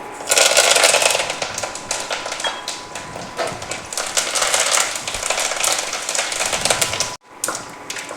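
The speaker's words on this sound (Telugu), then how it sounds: "మంచిగా పోపు అనేది వేగిపోతుంది" Tempering spices fry in hot oil on an induction cooktop for tomato chutney, giving a dense crackling sizzle with rapid pops and spatters that runs steadily and then stops briefly near the end.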